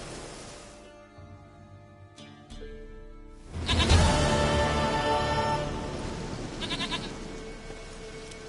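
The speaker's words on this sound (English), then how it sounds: "Goat of mine, dearest, sweetest goat." A goat in The Witcher 3 video game bleats loudly and close, a long wavering cry that swells and tails off, with a fainter earlier bleat before it and game ambience underneath.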